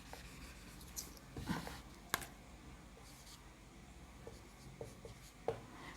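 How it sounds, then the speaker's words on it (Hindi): Marker or chalk scratching out maths on a classroom board, quiet and intermittent, with soft strokes and a few sharper taps across several seconds and no speech. "थोड़ा बड़ा लिखते हैं इसे।"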